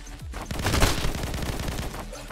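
Rapid bursts of gunfire in the run-and-gun game Soda Crisis, a fast rattling stream of shots with a heavy low thump, loud and continuous for a couple of seconds.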